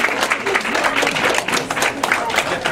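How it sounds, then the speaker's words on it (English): A workshop audience on cancer prevention applauds itself with dense, continuous clapping and crowd voices mixed in, steady and close throughout. "give yourselves a round of applause"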